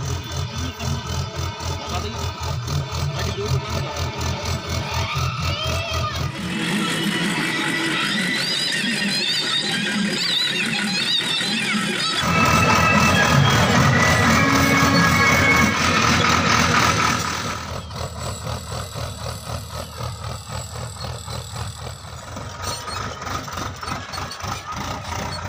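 A Sonalika 55 RX Sikander tractor engine runs in a field while sowing maize, a loud, close, rumbling drone that rises and falls in load and pitch throughout.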